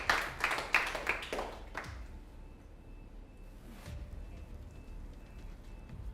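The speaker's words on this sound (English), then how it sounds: "So please give yourselves a warm round of applause." A bake-off awards ceremony audience applauds, a burst of dense clapping for the first two seconds that quickly fades away, followed by a quiet room with faint background noise.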